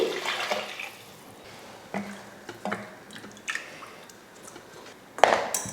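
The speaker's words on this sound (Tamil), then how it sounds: "இப்போ இதில் தண்ணி சேர்த்துருவோம்." Water splashes into a pot for tomato rice in several short bursts separated by quiet gaps. The last splash is the loudest, and no one speaks.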